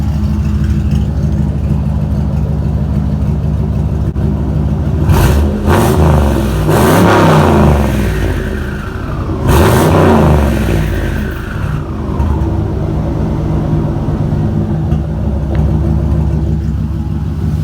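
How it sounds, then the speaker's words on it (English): A loud turbocharged LS 5.3 V8 engine idles, then revs up sharply several times, the pitch rising and falling before settling back to a steady idle. "I'm going to give it a quick rev before it gets too hot."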